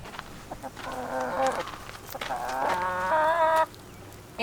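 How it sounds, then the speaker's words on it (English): Roosters on a homestead cluck and call in a couple of bursts, fairly close, over faint background noise with no talking. "Both of those are roosters"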